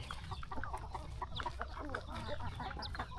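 Native chickens on a farm cluck in soft, overlapping bursts over a low rumbling background, a small flock heard at moderate distance for a few seconds, with no speech.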